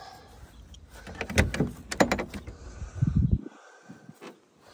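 Door on a 1988 Land Rover 90 hardtop with a 2.5 petrol engine, worked with a couple of loud metallic clunks and rattles close by, followed by quieter handling noises.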